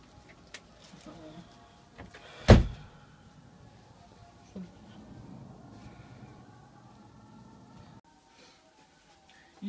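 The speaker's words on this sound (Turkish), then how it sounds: "Kapıyı kapat." A door being shut gives a single sharp, loud thud near the start, set against a quiet room with faint low background noises before and after.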